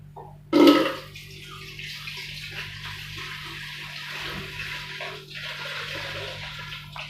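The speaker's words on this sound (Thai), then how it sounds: "อ่ะเทน้ำมันออกปรงไว้ให้มันเย็นก่อนครับ" Cooking water poured off a pot of boiled cherry snails, opening with a sudden loud splash, then a quieter steady trickle and gurgle that runs on to the end.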